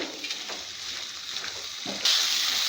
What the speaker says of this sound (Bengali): আমি এখন আলুগুলো দিয়ে দেব আলুগুলো দিয়ে একটুখানি কষে নেব